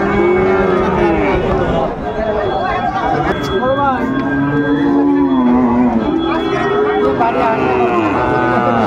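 A Sahiwal bull calf moos repeatedly and loudly at a busy cattle market, with long drawn-out calls rising over a steady hubbub of crowd chatter.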